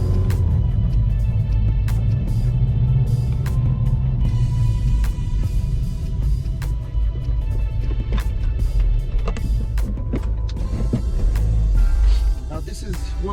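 An Audi A3 S-line on the road, heard as a continuous low engine and road rumble inside the cabin with occasional clicks and creaks, steady and fairly loud throughout, easing off near the end.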